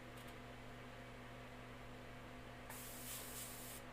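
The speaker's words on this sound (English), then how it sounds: "Make sure this is going to spray for me first." A paint sprayer with a small amount of paint kicks on after a steady background hum, giving a bright, sustained hiss near the microphone for the last second or so.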